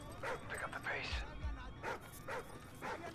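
Dogs barking in the video game Call of Duty: Ghosts, a series of yips and barks spaced across the moment, fairly quiet, with gameplay noise behind and no one speaking in between.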